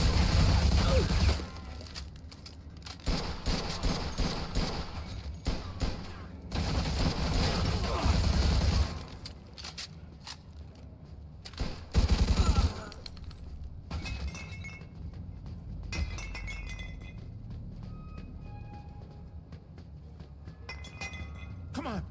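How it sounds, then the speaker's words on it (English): Gunfire in the Mafia 2 video game, bursts of shots with clinking and shattering glass over a dense busy mix, loud in spells and then easing off, with voices talking through it. "They're shooting at me, for Christ's sakes."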